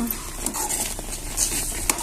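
Spoon scraping and stirring paneer in a kadhai, a few soft clinks and scrapes at irregular intervals over a faint sizzle.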